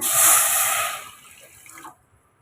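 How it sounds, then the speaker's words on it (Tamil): Water pours onto sugar in a pan for rasmalai syrup, a loud, close splashing gush that tapers off and stops after about two seconds. "இப்போ இதில் நம்ம தண்ணி சேர்த்துக்கலாங்க"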